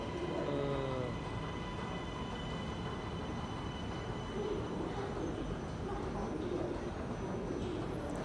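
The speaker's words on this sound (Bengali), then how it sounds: "এই যে ট্রেন আইসে।" MRT Putrajaya Line metro train pulling into a station in Kuala Lumpur, heard as a faint, steady rumble with a soft wheel whine, sounding some distance away.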